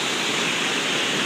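Broad steady rush of a waterfall at Judge Magney State Park after rain, an even hiss heard from an overlook, moderately loud, with no talk.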